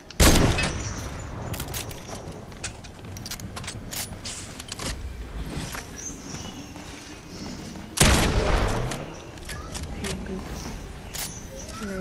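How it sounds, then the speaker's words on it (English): Gunfire in a Fortnite-style battle royale game, with bursts of shots and sharp loud blasts at the start and around eight seconds, under steady talk from players. "Who's shooting, wait?"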